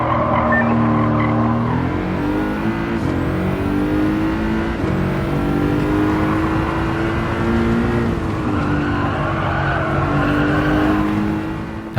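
Race cars in the Gran Turismo 7 video game, with a steady, loud engine drone that rises and falls in pitch through gear changes, plus occasional tire squeal, continuous for the whole stretch, no speech.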